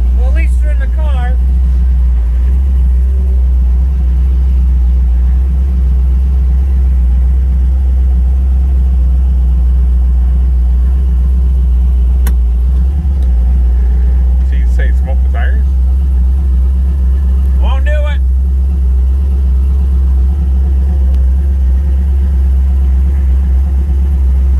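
A blown LS engine car heard from inside the cabin, a loud, steady low rumble droning throughout while people talk over it.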